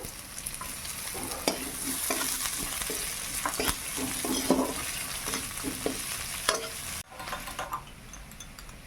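Chopped onion sizzles in a pan as it is stirred for restaurant-style chicken lollipop, a steady hiss of frying broken by repeated scraping and clinking strokes of the spoon, close and fairly quiet.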